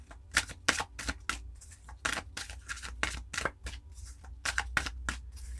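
Angel cards being shuffled by hand, a quick run of crisp riffling bursts one after another, close and fairly quiet, with no talking.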